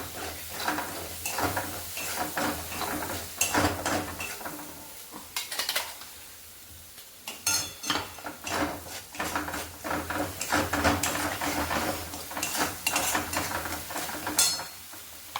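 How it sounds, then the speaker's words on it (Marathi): An onion garlic masala with turmeric is sautéed in a pan, with bursts of sizzling and frequent spatula scrapes and clatter on the pan continuing throughout, close and fairly loud, with no talk. "मसाला व्यवस्थित परतून घ्यायचा आहे। तेल सुटस्तोवर मसाला परतून घेते।"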